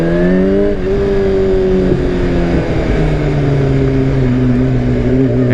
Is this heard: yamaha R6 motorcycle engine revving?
yes